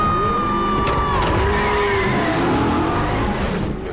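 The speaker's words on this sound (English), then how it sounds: "She's driving her Cuda" A Plymouth Barracuda stunt car with a modern engine, Brembo brakes and coilover suspension drives hard, a loud, continuous engine roar with shifting revs and tire squeal, close and steady throughout.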